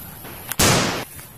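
A single sharp toy sniper rifle shot bursts out with a loud crack and brief rushing tail, standing out against quiet background noise.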